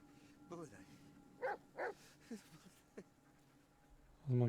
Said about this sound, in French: Heureusement qu'il est là, ce chien.